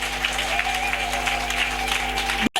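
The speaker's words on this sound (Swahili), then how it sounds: "Mpe Bwana makofi ya kumshawishi." Church congregation applauding during a sermon, a steady wash of clapping from many hands over a low hum, ending in a sudden cut.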